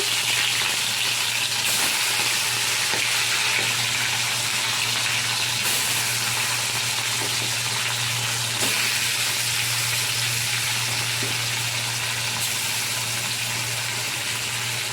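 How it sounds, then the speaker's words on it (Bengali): Fish, small parshe, frying in hot oil in a wok, giving a steady, loud, dense sizzle that holds for the whole stretch with a few faint clinks and no talk. "মাছগুলো আস্তে আস্তে আমি ছেড়ে দেবো ছেড়ে আমি ভেজে নেব"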